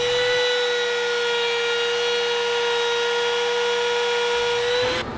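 A power router runs steadily while cutting a small chamfer along the outside edge of a wooden finger-joint picture frame, a continuous close whine with no speech.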